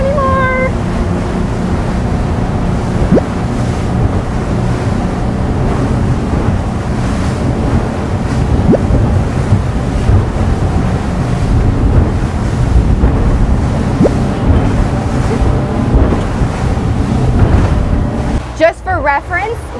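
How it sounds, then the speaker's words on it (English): Ocean waves and heavy wind roar around a boat planing fast over big swells in rough seas, loud and continuous from start to finish with the hull pounding through the water. "I was going fast enough to get on top of the waves and stay on top of them, and Emily stayed dry"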